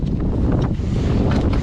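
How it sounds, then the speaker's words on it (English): Strong wind buffets an ice fishing shack on a freezing day, a steady loud rushing roar with low rumble and gusts throughout, no talking. "Wind's whipping again, isn't it? Yeah, it's a nasty windy day."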